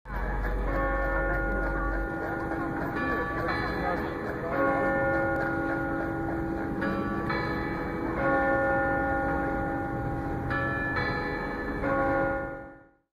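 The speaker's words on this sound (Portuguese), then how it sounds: "contando com um carrilhão com 6 sinos que tocam nas horas cheias e nas frações" The six-bell carillon of the monastery clock at Mosteiro de São Bento in São Paulo rings a sustained, resonant melodic chime that continues for most of the passage and fades out at the end, with faint voices underneath.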